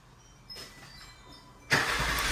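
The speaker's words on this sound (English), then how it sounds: "Could start the engine while you're outside" A 2025 Acura MDX engine starts by remote, a loud broadband surge catching abruptly and settling into a steady run after a quieter lead-in.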